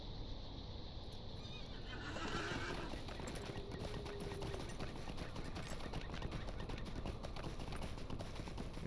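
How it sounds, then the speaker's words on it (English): Horse in the game LOTRO neighing and galloping, with rhythmic clip-clop hoofbeats running steadily throughout, fairly quiet and close, after a brief quieter opening. "Alright, I'll get on my horse, fine."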